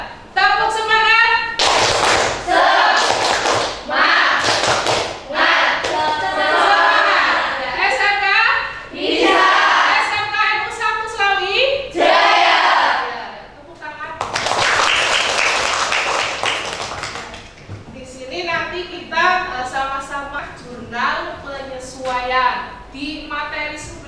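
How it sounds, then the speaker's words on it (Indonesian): A classroom of students joins in a rhythmic spirit clap, bursts of loud, patterned hand claps in quick sequences, with children's voices chanting and talking between the clapping runs. "Kita sama-sama tepuk semangat."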